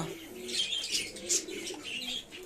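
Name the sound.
pigeons cooing in breeding cages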